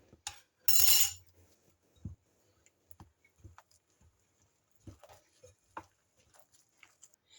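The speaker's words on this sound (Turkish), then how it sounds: "Elimle yoğuruyorum." A hand works a flour dough for a kadayıf-style nut dessert after a third cup of flour goes in, giving soft, irregular pats and squishes. A sharp clinking burst near the start is likely the spoon being lifted out.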